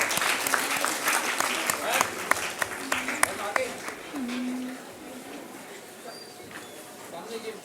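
Audience applause at an academic awards ceremony for best papers, fading from a dense burst of clapping into scattered claps as the hall quiets, with some background murmur.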